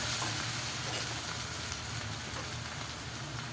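Ginger garlic paste with salt fries in a pan with a steady, dense sizzle that holds even throughout, close and fairly quiet, with no talking.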